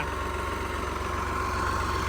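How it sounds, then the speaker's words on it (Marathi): A farm tractor's engine runs at a steady idle nearby, giving a continuous low rumble and vibration throughout, with no talking. "बंद करा ट्रॅक्टर."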